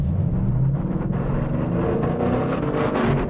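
A Ford Mustang Boss 302's V8 engine rumbles deep and loud at close range, its revs rising and falling with a throaty, uneven growl and no talking over it.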